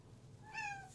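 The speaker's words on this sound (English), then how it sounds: "you may have just heard meowing" A cat gives a single short, clear meow at moderate distance, alone over faint room noise.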